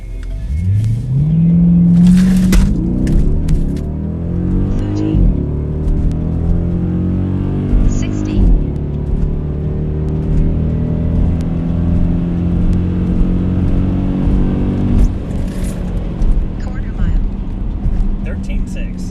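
A Pontiac G8 accelerates hard along a salted road during a timed run, its engine revving up through rising gears with shift breaks, loud and close, while people talk over it.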